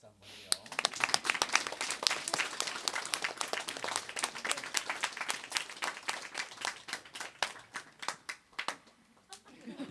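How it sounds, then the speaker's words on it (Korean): Encouraging applause from a church congregation during a testimony, crisp individual claps building into a fairly dense patter, then tapering off to a few scattered claps near the end. "우리 격려 박수 한번요."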